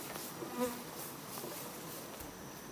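Honeybees from a strong, healthy hive in a bee yard hum in a dense, continuous buzz close by, with no voices.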